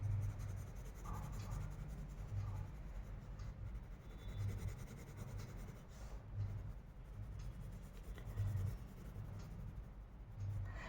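A light blue colour pencil shading a children's Krishna drawing, heard as a soft, continuous scratchy rubbing that keeps going on the paper in a quiet setting.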